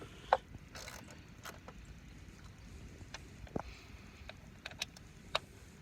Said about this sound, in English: Again, I'm just holding the head of the ratchet so I don't, you know, torque down too hard on these things.